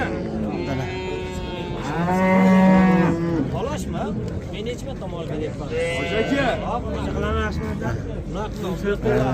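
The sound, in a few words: cows mooing at a cattle market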